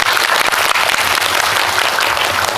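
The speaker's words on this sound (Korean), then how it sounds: "참고로 박수 부탁드립니다" An audience in a Megabox cinema hall at the COEX mall applauds during a premiere talk event for Confidential Assignment 2, giving dense, loud, steady clapping that fills the room without a pause and with no voices over it.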